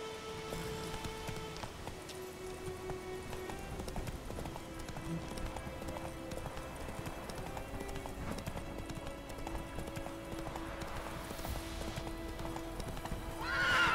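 A horse gallops in the video game The Witcher 3, with steady rhythmic hoof clip-clops running throughout, a whinny, and a faint patter of rain in the background.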